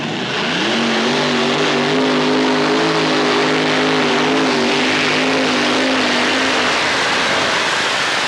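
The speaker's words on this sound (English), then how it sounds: "5 competition engines, Chevrolet power plant, that Torco Racing alcohol powered machine" A loud, roaring alcohol-powered Chevrolet pulling engine at a full pull, sustained high revs, its pitch rising slightly then holding steady, dominating the scene without any voices.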